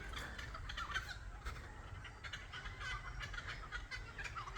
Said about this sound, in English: And then there's a bird over there somewhere.